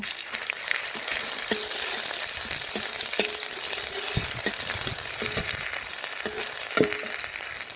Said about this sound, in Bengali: একটু আদা রসুন বাটা দেব।